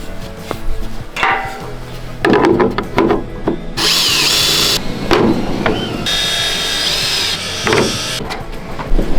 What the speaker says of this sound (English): I'll pre-drill. I'll mark these holes.